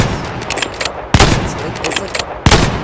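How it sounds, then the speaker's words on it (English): An M24 bolt-action sniper rifle from a Minecraft gun mod fires three loud, sharp shots at a slow, even pace, with bursts of other gunfire between them. "starting the sniper rifles off is the M24"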